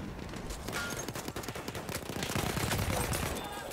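Dense gunfire in the Battlefield 1 video game, rapid overlapping shots and bursts crackling continuously at close to mid range with no pauses.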